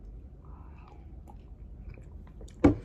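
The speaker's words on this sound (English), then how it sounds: "And that crunch, I can hear it right there." One close, crunchy bite into a Java Chip Oreo cookie breaks a near-silent stretch, a short crisp snap of chewing near the end.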